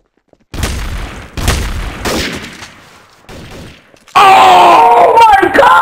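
Gunfire in a shooter video game: a few heavy booming shots spaced about a second apart, then a loud dense burst of crackling game noise, all close and loud.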